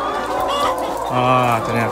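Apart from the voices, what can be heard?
chickens clucking in a chicken coop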